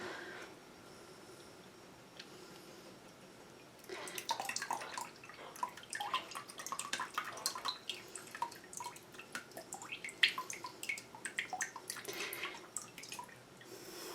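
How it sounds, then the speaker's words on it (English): Water drips and trickles irregularly from a papermaking mold lifted out of a vat of pulp, a quiet lead-in followed by about ten seconds of scattered close splashes and drips of uneven rhythm, none very loud. "pull it out, let the water drain as best as it will"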